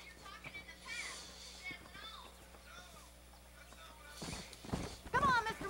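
Horse hooves clip-clop in the Western video game Red Dead Redemption, sitting low under spoken character dialogue, with a louder burst of movement near the end.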